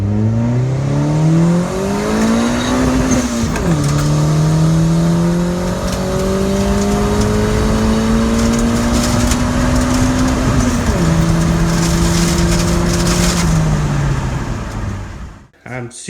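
A car engine revs hard after a new ECU install, loud rising pitch through gear changes close by as the car pulls strongly, with a voice speaking over it.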